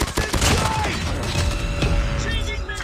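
Gameplay from Call of Duty Mobile with loud, close shotgun blasts and rapid gunfire, delivered as sharp, punchy bursts over a dense, noisy battle background.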